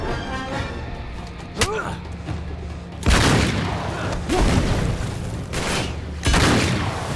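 Grenade and gunfire explosions in Uncharted 3 at a shipyard: a sharp blast near 1.6 s, then three loud, broad booms around 3, 4.3 and 6.3 s over continuous rumbling battle noise, with faint voices underneath.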